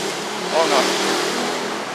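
Traffic on a windy main road, a car passing close by with a steady engine roar over constant wind noise, alone without talk.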